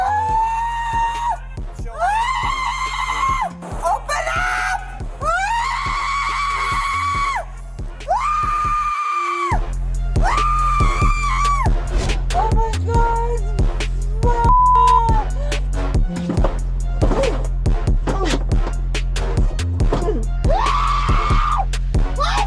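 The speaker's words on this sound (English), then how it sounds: "scream at the top of her lungs and try to attack the officers" A woman screams loudly at the top of her lungs during an arrest by officers, long repeated wailing shrieks rising and falling one after another across the whole stretch, close and harsh, with brief gaps between cries.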